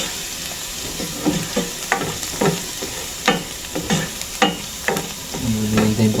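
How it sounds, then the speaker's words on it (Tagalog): Garlic sizzles steadily in a hot pan, with sharp scraping strokes of a spatula stirring it at an irregular pace, close and fairly loud, and no one speaking. "lagyan na po itong bawang. Halu-haluin."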